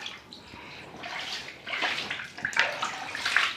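Water pours from a tap over raw chicken gizzards being rinsed, a close splashing, gushing stream that swells and grows louder in uneven surges over a few seconds.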